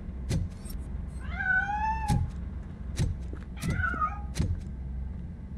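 In RoboCop: Rogue City, a cat hidden inside a piano meows twice, drawn-out and fairly close, between sharp thumps and knocks against a quiet game background.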